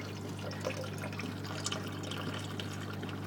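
Water trickles and splashes steadily into a marine aquarium sump tank as it begins filling, a soft continuous flow with light drips over a constant low pump hum.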